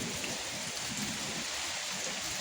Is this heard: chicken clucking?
no